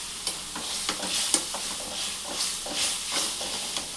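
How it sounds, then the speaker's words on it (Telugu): Rice flour being stirred into boiling water in a pot for Telangana-style uppudu pindi, soft scraping stir strokes and bubbling hiss with a few light knocks, close and steady, no talking. "ఇట్లా కొంచెం కొంచెం వేసుకుంటూ కలుపుకోవాలి"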